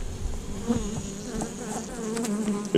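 Honey bees hum loudly and close on a brood comb frame lifted from a hive, a steady layered buzz with individual bees droning past.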